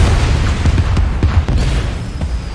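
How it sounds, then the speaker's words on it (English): Explosions in a film trailer, a continuous loud low rumble with several sharp bursts layered over it. "Explosions."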